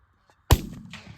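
A shotgun blast during an early-season bird hunt in a cut corn field: one loud, sharp report at close range, followed by a fading rumble and faint outdoor noise.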